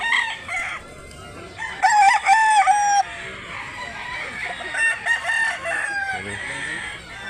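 A rooster, about one year old and for sale at a chicken market in Mantalongon, Barili, Cebu, crows loudly and close by, with clucking from other fowl and market chatter in the background.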